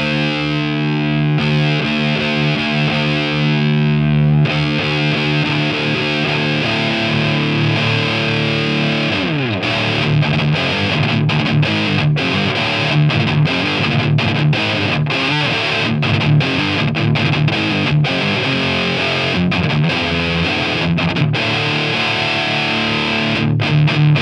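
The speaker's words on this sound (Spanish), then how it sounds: "En modo clásico ya tiene un chorro de distorsión acojonante" An electric guitar played through a Thermion Gasoline distortion pedal in classic mode roars with thick, saturated gain, opening on sustained chords before moving into busier riffing, loud and continuous with no talking.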